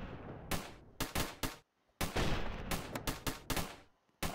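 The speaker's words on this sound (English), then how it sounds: "I got a machine gun dude over here trying to help" Machine gun tower in Roblox Tower Battles fires in sharp, loud bursts of rapid gunshots, broken by brief pauses and a near-silent gap, close and dominant with no talk.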